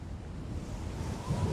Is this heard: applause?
no